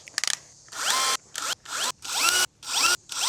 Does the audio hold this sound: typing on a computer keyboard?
no